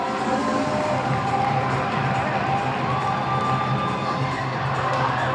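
Basketball fans cheer loudly and continuously inside a gym during a boys' high school game, a dense roar of crowd voices and children's shouts that holds steady from start to finish.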